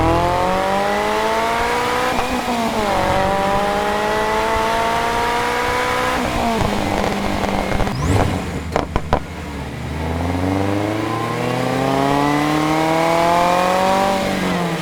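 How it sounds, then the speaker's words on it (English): A Subaru BRZ engine revs up and down through gear changes, with a quick cluster of sharp exhaust pops and crackles on a downshift midway. "Pretty much every single downshift, it's gonna pop."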